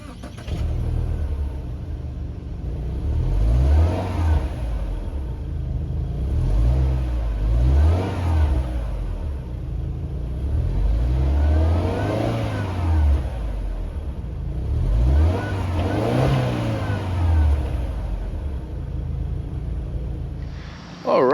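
A 2022 Subaru Ascent Touring's flat engine, rated at 260 horsepower, accelerates on the road in repeated rising-and-falling pulls with a steady mid-range engine drone. The sound is close and fairly loud, with no talk over it.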